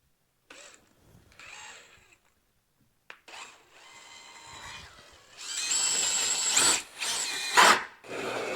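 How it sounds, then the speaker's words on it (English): A drill press whines through wood in bursts while a birdhouse is being built, rising to a loud, sustained grinding near the end after quieter starts and pauses. "we'll let you cut the little hole in the drill press"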